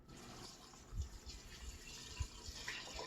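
Hot sugar water poured into a bucket for blueberry wine, a steady close gushing pour with a few low splashy thumps, and no voices.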